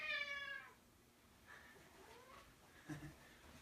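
A cat lets out one clear, loud meow close by, followed by a couple of softer, quieter meows in an otherwise hushed indoor room.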